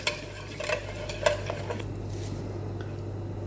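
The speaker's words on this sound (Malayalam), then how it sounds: "1/2 കപ്പ് പഞ്ചസാരയും കൂടെ ഇട്ടിട്ട് നമുക്ക് നല്ലതുപോലെ ഇതൊന്ന് ബീറ്റ് ചെയ്തെടുക്കാം" Eggs and half a cup of sugar are beaten in a bowl for basbousa, a quick run of clinking, scraping strokes over a steady low hum, fading to a softer swish.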